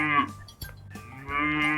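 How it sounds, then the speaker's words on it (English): A cow on a farm moos loudly and close by: a short low call, then a longer drawn-out moo, with no talking. "I say moo and I love to eat grass all day long."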